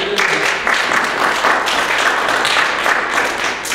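A church congregation applauds in a dense, steady wash of many hands clapping together. It stays loud and sustained throughout with no pauses.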